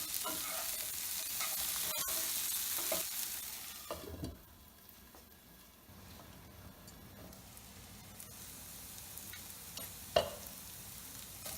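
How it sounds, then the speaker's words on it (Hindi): Okra for bhindi masala cooks covered in a pan, a soft sizzle with occasional clinks and scrapes of stirring, fairly quiet and uneven, louder at the start and with a sharp knock near the end. "अब इसको हमें करीब 10 मिनट तक ढककर कुक करना है। बीच बीच में हमें इसे"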